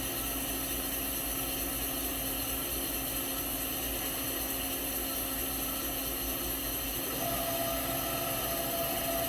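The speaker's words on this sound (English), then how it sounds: "Spindle, which hasn't ran in probably a year and a half, turning with a little bit of noise." Fadal VMC-15RT vertical machining center spindle spinning up after sitting idle for a year and a half, a steady faint whirring hum with a thin rising tone near the end, continuous and without knocks.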